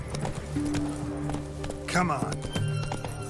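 Rhythmic hoofbeats of a horse galloping in The Witcher 3, steady clip-clop under spoken lines and background game music.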